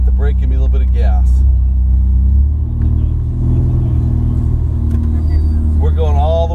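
A Ferrari 488 race car pulls away on a racing circuit, its engine a loud, steady low rumble that rises slightly as it gets on the gas, with a voice talking over it near the start and end.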